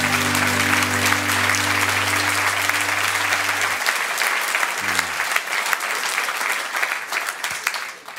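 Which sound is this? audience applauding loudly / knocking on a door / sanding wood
audience applauding loudly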